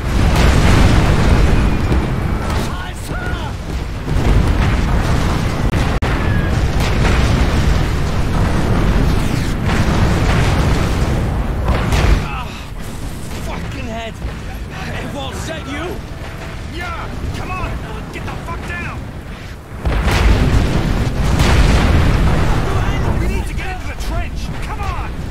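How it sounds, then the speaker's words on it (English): Artillery shells explode in the War Mongrels video game, heavy booming blasts rolling over a dense, loud battle din, with voices shouting over the chaos throughout. "Incoming artillery fire!"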